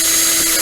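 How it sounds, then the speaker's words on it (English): A power drill bores window holes into the plastic of a Monogram Battlestar Galactica Cylon Basestar model kit, giving a steady close whine that runs unbroken for under a second with no talking. "And then I was just drilling, you know, maybe just do it"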